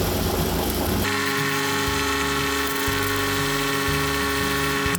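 A tractor engine, just refuelled with five gallons, runs at a steady idle: a loud, close, continuous mechanical drone with a constant vibrating hum and no talking.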